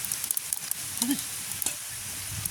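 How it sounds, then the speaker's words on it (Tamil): Fennel seeds tipped into a hot pan for a village-style curry give a soft, steady sizzle with a brief clink partway through, heard without any talk. "அடுத்ததாக பெருஞ்சீரகத்தையும் போடுவோம்"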